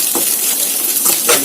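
Sunflower seeds frying in coconut oil in a pan give a close, continuous sizzle, broken by a few scraping stirs.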